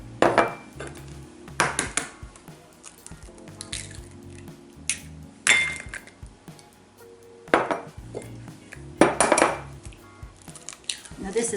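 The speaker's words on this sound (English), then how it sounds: "I'm breaking my egg in a separate bowl to make sure they're good eggs." An egg is cracked against a bowl and broken into a separate bowl while making French toast, giving a few sharp clinks and taps spaced several seconds apart with faint kitchen clatter between.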